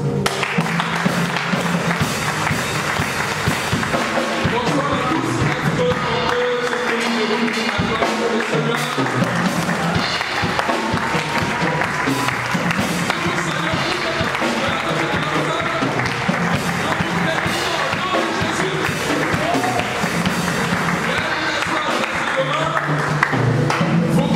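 Sustained applause and cheering from a church congregation acclaiming the reverend apostle Djedjan, a dense steady roar of clapping and voices lasting throughout at high volume.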